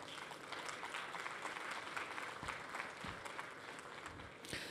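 A conference audience applauds steadily as a speaker is welcomed, a dense, even wash of many hands clapping at moderate distance.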